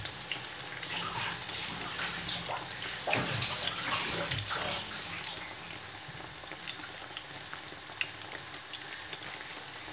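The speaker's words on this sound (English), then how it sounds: "I'm going to go ahead and wash my pepper" Running water washes a pepper at a kitchen sink, a steady close splashing hiss with faint handling sounds and no talking.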